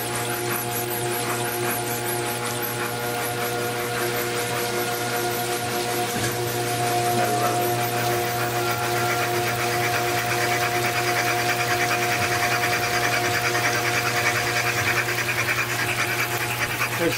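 A Toyota 2JZ engine runs slowly and steadily on a test stand, its constant mechanical hum and buzz droning on without a break.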